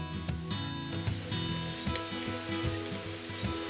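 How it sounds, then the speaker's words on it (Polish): Beef rib-eye steak sizzling on a hot grill grate, a loud continuous hiss and crackle with occasional pops and light scraping, close by and without talk. "Bądźcie ostrożni przy kładzeniu naszego steka na rozgrzany ruszt."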